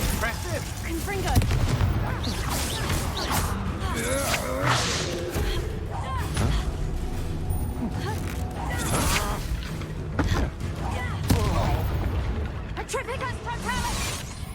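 Spell combat in the Hogwarts Legacy video game: rapid crackling casts and booming explosive blasts overlap continuously, with a voice shouting incantations throughout.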